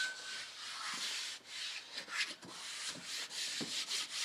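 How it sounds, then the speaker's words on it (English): A cloth soaked in acetone wipes down a Jeep Wrangler's interior surface with soft repeated rubbing strokes, close and quiet, no talk. "just take some acetone and wipe everything down to remove any residue"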